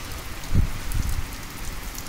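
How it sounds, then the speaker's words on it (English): Light rain shower falling outdoors by a garden, a steady soft patter on surfaces with a couple of low thumps near the start, no voices. "we're having a little shower here"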